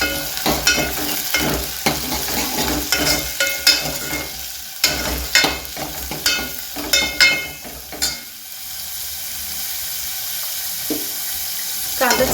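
Onion and curry leaves frying in hot oil, stirred in a pan, with a steady sizzle broken by repeated clattering stirs and scrapes, then settling into an even hiss.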